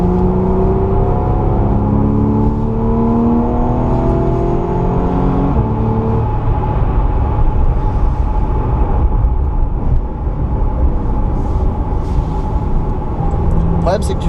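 A race car accelerating hard around the Le Mans circuit, its engine droning loud and close with rising, shifting pitch throughout, a steady wind-buffeted roar underneath, and voices talking over it.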